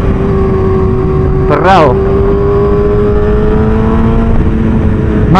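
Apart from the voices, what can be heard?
motorcycle engine revving as throttle opened through a corner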